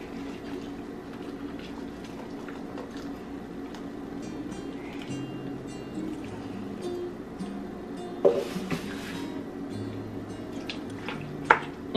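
Green dipping sauce is poured over shrimp aguachile in a dish, making soft trickling, dripping and squishing sounds with faint clinks of a utensil against the dish, heard nearby without talk.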